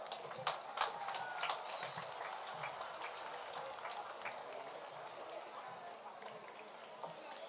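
An audience at a national schools' Independence ceremony for the Ministry of Education and National Reconciliation claps to welcome a speaker, a scattered, fairly faint applause with a voice talking over it.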